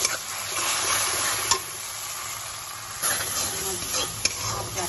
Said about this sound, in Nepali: टमाटर, प्याज, सर्सिम, अदुवा, लसुन भर्खरै बोलाउनु छ सबै राखेर फ्राई गर्दैछु।